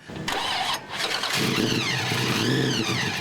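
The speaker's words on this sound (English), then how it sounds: "The roar of Alan Flynn's 1972 Chevelle SS draws a crowd everywhere he goes" A 1972 Chevelle SS engine cranks, fires and roars up at an outdoor car show, loud and close, its rising revs swelling and wavering over the crowd noise with no talking.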